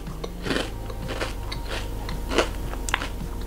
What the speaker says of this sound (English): this is a crunchy biscuit, but it tastes like edamame